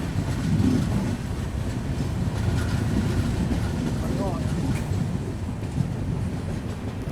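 Trivandrum Rajdhani Express 12431 running through the Konkan region as it approaches Madgaon Junction, with a steady, loud rumble and clatter of wheels on rails throughout and faint voices in the background.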